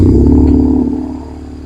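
A BMW R1100R motorcycle engine idles steadily and close by after starting, with a deep, even low rumble that eases off slightly toward the end.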